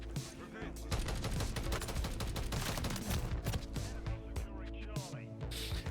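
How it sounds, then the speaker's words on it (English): Sidewinder automatic gun in Call of Duty firing at a slow rate of about 375 rounds per minute: a loud, continuous string of evenly spaced shots over game music and effects, with no pauses. "it fires single kind of, but it's just a slow fire rate, but it is like an automatic gun"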